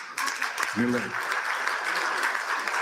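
A political audience applauds after a country is praised: a broad wash of clapping that starts at once and holds steady, with a brief voice rising through it early on.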